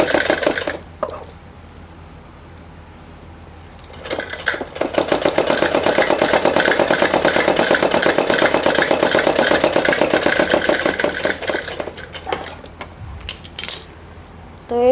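Electric sewing machine stitching a long seam on a four-panel salwar, a fast even rattling run of about eight seconds between quieter pauses, close and loud with no talk.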